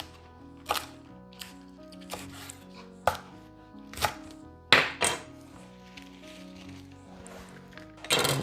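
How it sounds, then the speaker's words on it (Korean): A knife cuts lengthwise into green onion on a cutting board, with roughly ten crisp, irregularly spaced chops and taps, some louder knocks, with a faint ringing background tone and no talking. "파는 이렇게 가운데다 칼집을 넣어주세요."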